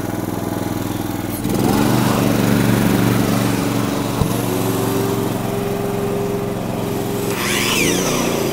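A Honda 2800 watt inverter generator hums steadily up close in eco mode, its engine note shifting slightly after a click, with a brief metallic tick midway and a faint whine later.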